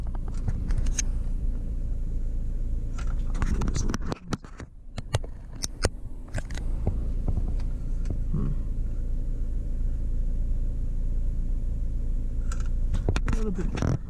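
Mazda Miata MX-5 engine droning steadily from inside the cabin while driving, a constant low rumble with a brief dip and a few clicks and knocks partway through.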